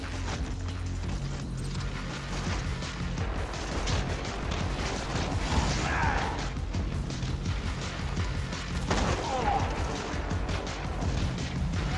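Sniper rifle gunfire in Borderlands 2 co-op play, heavy booming shots and crashing impacts over a dense rumbling game background, loud and continuous for several seconds.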